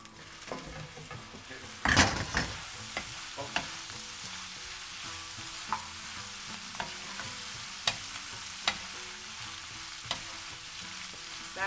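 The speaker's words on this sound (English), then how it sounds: "And just let it simmer for a minute." A chickpea and kale curry simmers and sizzles steadily in a pan, with a loud clatter near the start and then scattered light clicks and taps of a utensil over the soft bubbling, close and quiet, with no talking.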